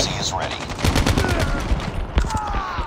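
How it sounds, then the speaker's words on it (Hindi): A sentry gun in Call of Duty fires rapid, continuous bursts of automatic gunfire, loud and close, with a voice speaking faintly under the shots. "भाई सेंट्री गन बहुत बकवास कर रहा है पागल हो गया मेरा सेंट्री गन"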